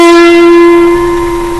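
Single sustained electric guitar note with BB King style vibrato, a bright held tone with rich overtones that slowly fades, played alone with no talking.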